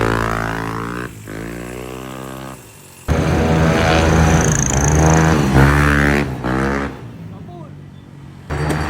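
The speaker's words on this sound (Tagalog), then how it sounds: "umaandar na yung motor" A Yamaha Aerox V2 scooter with bolt-on upgrades, its engine running close by: repeated revs that rise and fall in pitch, with a louder sustained stretch in the middle, then settling back toward idle.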